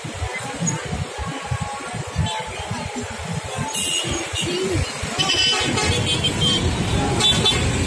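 Road traffic rumbles steadily as car horns toot several times, some near and some farther off, with people talking over the noise.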